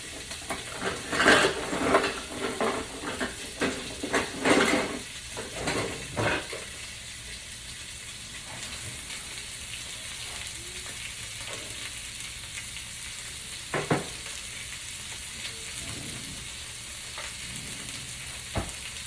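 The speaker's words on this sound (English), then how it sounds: "So, I'm going to go ahead and flip the meat now." Thin cut steak sizzles loudly in a hot pan as it is flipped, with bursts of scraping and clatter early on, then a steady frying hiss with an occasional knock and no talking.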